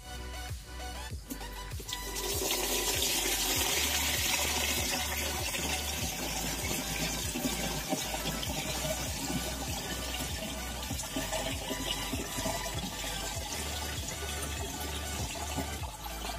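Water pours steadily into a 16 liter sprayer tank in a field, a continuous rushing splash that starts after a couple of seconds and keeps going, fairly loud and close, with no talking.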